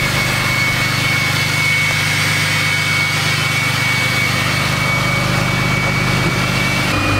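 A 2018 Cummins 6.7 diesel engine fitted with a new air cleaner runs steadily, a loud, close, continuous low rumble with a constant whine on top and no speech.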